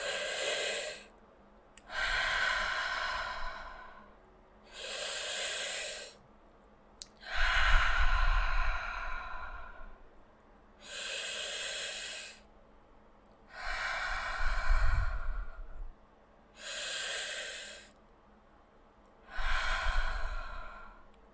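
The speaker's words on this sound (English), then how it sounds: "try to join me by breathing in through the mouth and out through the mouth." Slow, deliberate breaths drawn in and pushed out through the mouth during a guided meditation, about eight distinct airy inhales and exhales in a steady rhythm, close and clear against a quiet low hum.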